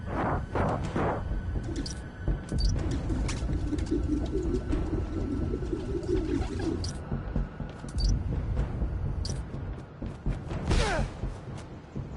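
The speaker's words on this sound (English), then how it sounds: "There's a lot of birds around here." Pigeons coo in the Spider-Man Miles Morales video game on PS5, a low, repeated burbling over a busy city backdrop, with occasional whooshes and soft thuds from movement nearby.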